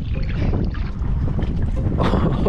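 Water sloshing and slapping from a passing boat's wake, broadband and continuous with wind buffeting the microphone, loud and close throughout.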